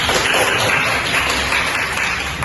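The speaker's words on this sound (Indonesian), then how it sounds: "Tepuk tangan." A class of Indonesian language students applauds a classmate, a dense, steady wash of many hands clapping together at close range for a couple of seconds without pause.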